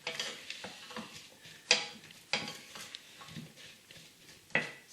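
A utensil stirs onions in butter in a pan on medium-high heat, giving a soft steady sizzle punctuated by sharp scraping clicks against the pan, close up.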